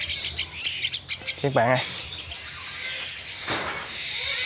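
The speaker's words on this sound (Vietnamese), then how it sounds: "Con chim mà nó còn hả họng mà nó đòi ăn gì đó ha, là nó ha, nó còn đói nè." Hungry hand-raised oriental magpie-robin chicks give sharp, rapid begging squawks at close range, several bursts in quick succession, while someone briefly talks over them.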